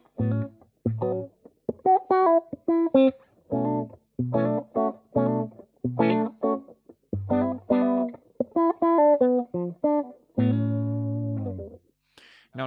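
An electric guitar runs through an effects pedal in a rhythmic neo-soul setting, playing short, choppy chord stabs and note clusters in a stop-start pattern, clear and alone, ending on a sustained ringing chord.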